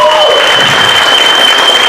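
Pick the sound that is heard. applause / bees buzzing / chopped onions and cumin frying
applause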